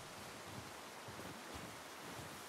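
Steady rushing water from a waterfall in The Last of Us Part II, a dense continuous broadband roar with soft low surges, filling the scene alone without voices.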